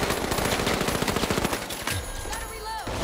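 Automatic gunfire in the shooter game The Finals: a fast, loud, rhythmic burst of shots for about two seconds, then it stops and quieter game effects follow.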